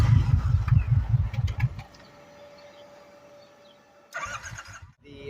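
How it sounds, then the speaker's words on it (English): Kawasaki Vulcan Voyager motorcycle starting: a close low rumble of cranking at first, then a quiet lull with faint background, and the engine catching and firing loudly near the end. "But let's fire this thing up and you can hear it."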